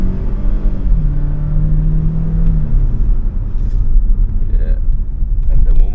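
A Renault Duster engine hums steadily from inside the cabin after a paddle downshift, a loud low rumble with a brief rising tone as revs settle, road noise underneath.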